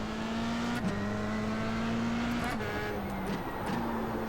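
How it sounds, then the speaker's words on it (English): A Formula 3 car in iRacing at Zandvoort holds a steady high engine note bouncing off the rev limiter, with brief dips and stutters at each limiter cut before the flat buzz resumes, loud and continuous throughout. "Once again, hit the rev limiter."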